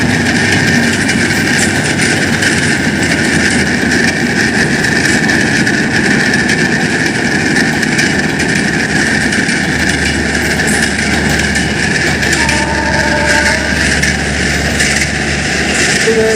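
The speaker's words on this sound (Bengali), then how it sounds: "ভিডিওটা শ্যুট করতে করতে দেখি আবার অপোজিট সাইড থেকে আরেকটা ট্রেন আসতেছে" A train from Rajshahi approaches on the opposite track, producing a loud, continuous rumble and rolling drone that holds steady throughout.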